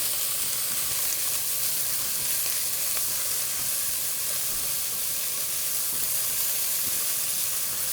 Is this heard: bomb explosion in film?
no